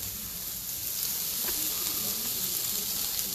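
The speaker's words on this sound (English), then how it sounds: "go ahead and grill these a little bit, or saute them" Vegetables for a barbecue shakshuka sizzling as they sauté in a hot pan, a steady close crackling hiss with a faint clink partway through.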